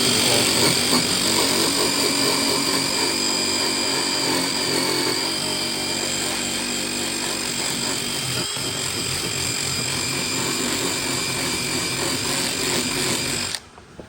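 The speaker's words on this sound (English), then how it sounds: "Let's see what wire brush does to it." A power tool spinning a wire brush against an ATV engine part, loud and close, with a steady whirring grind that runs almost without a break before cutting off abruptly at the end.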